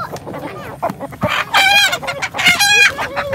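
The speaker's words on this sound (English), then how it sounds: "Even though the roosters are big, they're really nice." Chickens and large roosters in a pen give loud, close clucks and drawn-out crowing calls in quick bursts, with no talking.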